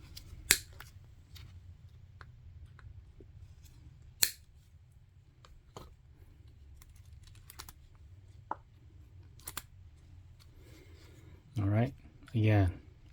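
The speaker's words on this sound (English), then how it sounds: "I'm going to cut off the old zip ties." Sharp, isolated snips as cutters clip through old plastic zip ties on a Miata ITB air filter, several spaced irregularly and up close, with a voice briefly heard at the end.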